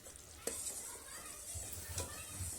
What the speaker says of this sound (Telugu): పాకంలో ఇలా నెయ్యి వేసేసుకుందామండి